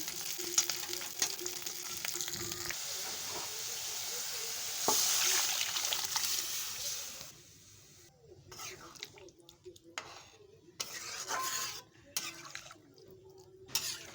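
Spice paste of ginger, cumin, green chili and tomato fries in a pan for dal, a soft steady sizzle that later breaks into intermittent bursts with gaps, a voice talking over it.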